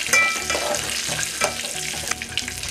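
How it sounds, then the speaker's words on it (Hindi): Raisins sautéing in a hot pan for zarda, a sweet rice dish, give a steady close sizzle and crackle with light stirring scrapes, continuous for a few seconds with no talk. "10 से 15 सेकेंड सॉटे करेंगे, उससे ज़्यादा नहीं करना है हमें।"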